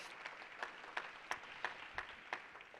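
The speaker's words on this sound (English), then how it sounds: "I'd say give them a round of applause" A handful of people clap slowly in a sparse, evenly spaced rhythm, each clap distinct and fairly quiet in a large room, with no voices over it.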